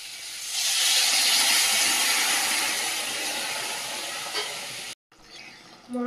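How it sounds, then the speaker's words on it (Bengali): Vegetables fry in a pan with a loud, steady steamy hiss and sizzle that swells early and then eases slightly, ending in a brief cut to a quieter pan sound. "সবজিগুলো ভালোভাবে ভেজে নিয়েছি"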